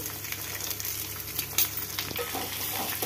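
Onion, green chilli and carrot pieces frying for puri curry, a soft steady sizzle in the pan with occasional stirring scrapes, fairly quiet and without speech.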